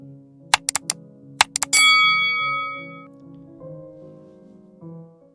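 A notification bell sound effect: a few quick clicks lead into a bright ringing ding that sustains and fades, followed by softer chime tones.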